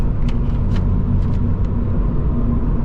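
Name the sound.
Subaru BRZ 2.4 Boxer engine revving while driving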